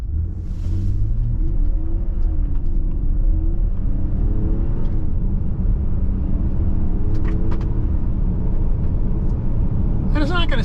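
A 2024 Infiniti QX60 Luxe AWD pulls away from a stop, its engine a steady, loud rumble whose tone climbs smoothly as it accelerates, with road noise throughout.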